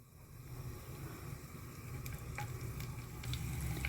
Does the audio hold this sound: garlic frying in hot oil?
yes